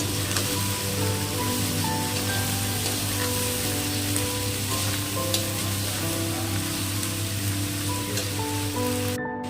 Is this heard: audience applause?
no